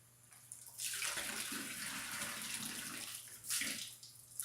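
Water from a garden hose pours steadily into a bird fountain, a close continuous splashing rush that swells briefly near the end.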